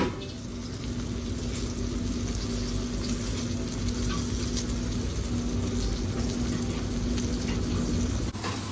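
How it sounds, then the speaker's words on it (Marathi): Pomfret fish fries on its second side in a pan, with a steady dense sizzle of hot oil that holds evenly and fairly loud for several seconds before cutting off. "त्याला त्यांनी अपोजिट साईडला फ्राय करायला ठेवलं आहे"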